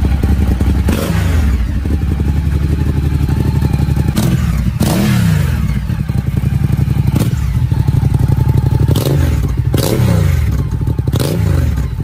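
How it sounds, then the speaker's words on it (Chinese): Ducati Monster motorcycle with a V-twin engine, a loud nearby idle with repeated sharp throttle blips rising and falling every couple of seconds, heard alone without talk. "大家听一下发动机声浪"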